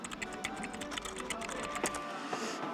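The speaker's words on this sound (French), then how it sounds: "On a un magnifique clavier brandé Sega." Keys tapped on a Sega-branded keyboard, probably in a secondhand retro game shop, give a steady run of fairly close clicks with brief pauses, over faint room background and with no talk.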